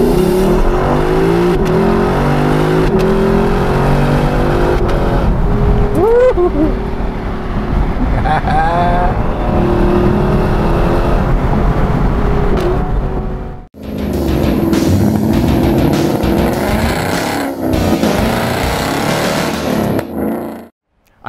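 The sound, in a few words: 2021 Lexus LC500 Convertible engine driving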